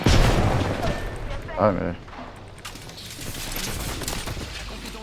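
Gunfire in an Apex Legends-style shooter: a burst of rapid shots with booming impacts at the start, then quieter game noise while someone speaks briefly.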